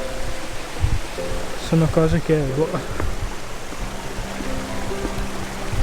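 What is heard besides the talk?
water flowing everywhere, Torres del Paine park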